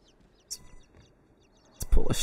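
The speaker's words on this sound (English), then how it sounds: "Love the sound of those little birds" Small birds chirping in the game Inside, a few faint high twittering calls over near silence, followed by a louder burst of noise at the end.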